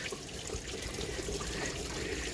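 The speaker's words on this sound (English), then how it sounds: "You can see how the water is basically coming out." Water flushes out of a disconnected radiator hose on a VW Polo Vivo during a cooling system flush, a steady gushing trickle that runs continuously at close range and low level.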